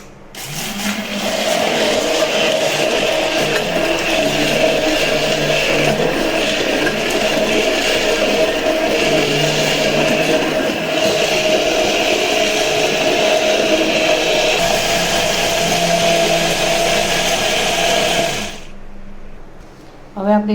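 A kitchen blender grinds cashew and almond pieces for rose lassi, a loud continuous whirring motor running steadily for about eighteen seconds before cutting off abruptly.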